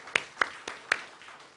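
Four or five distinct handclaps sound a little apart at a church worship service, sharp and fairly close, fading after the fourth, with no talking.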